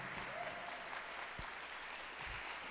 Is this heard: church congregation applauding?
yes